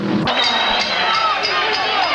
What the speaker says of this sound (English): Most of the crowd still on its feet, cheering the hometown hero Burnette